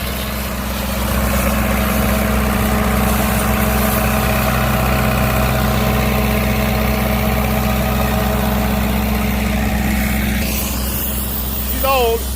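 An old John Deere unit idles steadily nearby outdoors, its low engine drone constant throughout, with a brief faint squeak near the end.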